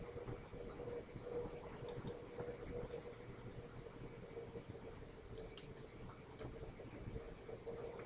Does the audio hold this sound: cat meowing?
no